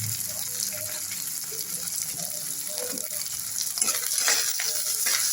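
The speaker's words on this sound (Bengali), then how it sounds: "পেঁয়াজটা একটু হালকা করে আমি ভেজে নিচ্ছি পেঁয়াজটা ভাজতে ভাজতে আমি একটুখানি নুন দিয়ে দিলাম" Onions sprinkled with a little salt crackle and hiss in a hot pan, a close, steady sizzle with scraping stirs and a brief watery rush, swelling slightly louder toward the end; nobody speaks.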